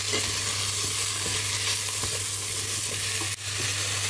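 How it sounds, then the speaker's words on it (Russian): Mushrooms fry in olive oil in a pan, giving a steady close sizzle with occasional stirring scrapes and a brief clatter near the end. "Грибочки жарятся."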